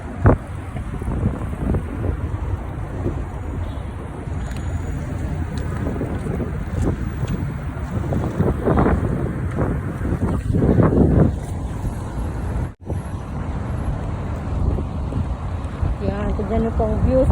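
Steady wind rushing and buffeting a microphone outdoors in breezy, mild weather, with faint boat and water sounds mixed in and brief voices in the background.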